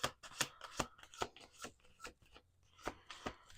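Tarot deck being shuffled in a series of crisp riffling bursts, about ten quick papery snaps spread evenly across a few seconds, close and fairly quiet with no talking.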